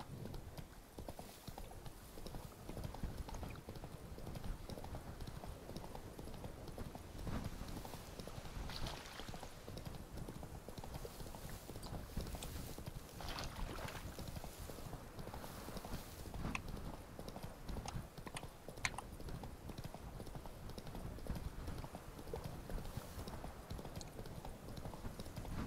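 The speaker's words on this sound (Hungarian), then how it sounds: "Ló." Horse hooves clip-clop steadily in The Witcher 3 on Death March difficulty, a continuous trotting rhythm with scattered louder hoofbeats, close and clear throughout.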